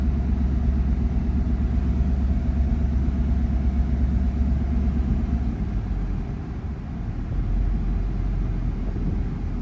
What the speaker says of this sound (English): It's idling on its own.